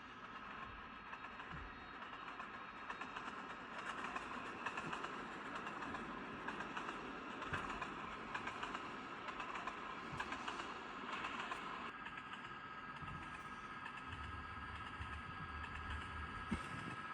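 A steam locomotive, number 1225, hauls a Christmas excursion train, heard as a steady rolling rumble with rhythmic wheel clatter on the rails, moderately distant and fairly quiet throughout.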